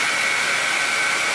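A hair dryer blows a ping pong ball at home, making a loud, steady, close-up whoosh of rushing air with a constant motor whine and no talk.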